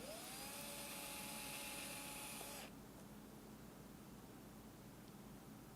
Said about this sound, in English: And then of course just drilling for the screws that will hold it in place.